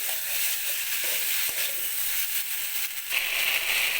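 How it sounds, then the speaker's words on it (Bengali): Chopped tomatoes and vegetables sauté with Kashmiri chilli powder and other spices in a pan, cooking down for a winter-vegetable fish curry; a steady, close sizzle hisses continuously with a slight swell near the end and no talking. "দিয়ে দিলাম কেটে রাখা টমেটো আবারও ভালোভাবে মশলার সাথে কষিয়ে নিচ্ছি"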